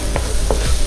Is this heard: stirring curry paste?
yes